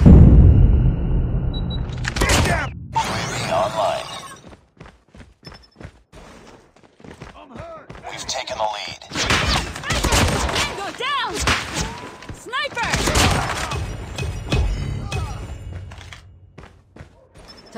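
Video game gunfire crackles in bursts of sharp shots and thuds mixed with other battle effects, loud and close, with voices heard over the action.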